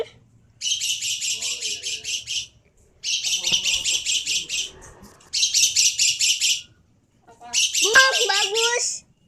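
A caged cockatoo gives four bursts of loud, rapid, harsh chattering calls, each lasting about two seconds with short gaps between them. A voice comes in briefly near the end.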